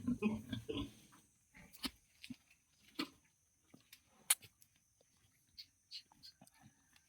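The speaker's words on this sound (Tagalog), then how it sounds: "Pagkatapos lang kumain yung mama pig." A mother pig grunts after eating. The grunts are soft, low and scattered, coming at irregular intervals across the clip, with a few faint snorts and quiet background noise between them.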